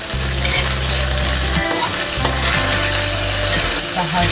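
A spatula scrapes and stirs fish roe frying in a wok, sizzling steadily up close with rhythmic metallic scraping and clanks over a continuous hiss.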